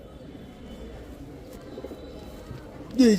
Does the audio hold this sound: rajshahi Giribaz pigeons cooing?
yes